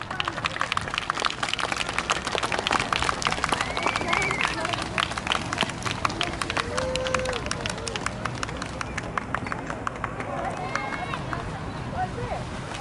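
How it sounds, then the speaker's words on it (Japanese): Outdoor crowd at a city greening festival in Kairakuen, Mito, applauding to welcome a high school cheerleading dance team, dense continuous clapping throughout with crowd murmur. "大きな拍手で迎えてください。"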